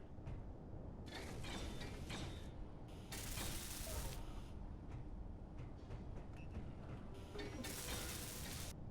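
A ship printer in the Space Engineers game works away with mechanical ratcheting, creaking and grinding, steady throughout with bursts of brighter welding-like hiss that swell and fade in several passes.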